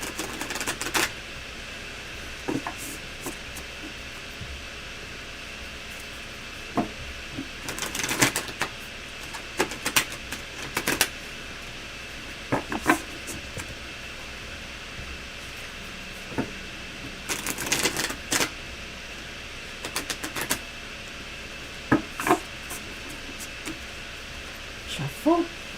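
A deck of tarot cards is shuffled in scattered bursts of crisp, papery riffling and tapping, quiet and close, with gaps between and soft room noise throughout.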